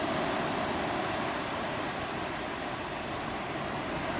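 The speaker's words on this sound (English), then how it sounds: "As you watch these waves," Ocean waves wash in a continuous, even roar of surf, broad and steady with no distinct breaks, heard alone without voices.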